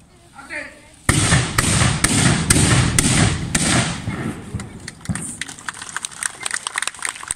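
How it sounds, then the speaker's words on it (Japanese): A line of matchlock guns fires in quick succession as an arquebus corps performs at the Nagashino battle festival. Sharp, loud reports ring out outdoors, then crowd noise and scattered clapping follow. "指揮者の合図で火蓋を切って、発射をいたします"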